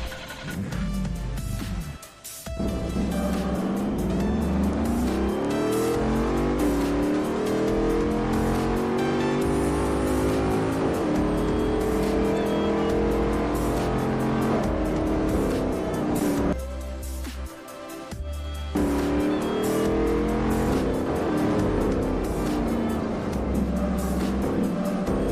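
A car drives in the video game Garry's Mod, its engine revving and shifting continuously with rising and falling pitch sweeps, loud and close, cutting out briefly in a couple of places.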